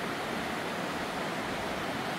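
Steady, dense roar from a waterfall along the Verzasca river in southern Switzerland, heard up close as an unbroken hiss of crashing water with nothing else audible.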